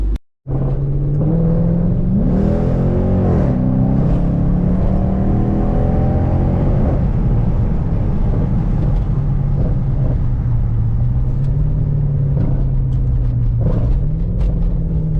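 Car driving through city streets, a steady engine rumble and road noise from inside the cabin that swells with a brief rev early on, then settles back to a low drone, with no speech.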